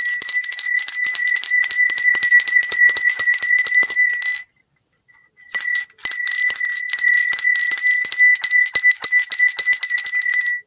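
Bells ring continuously in a bright, dense jangling stream with rapid strikes, loud and close, stopping briefly for about a second midway before resuming, with no talking.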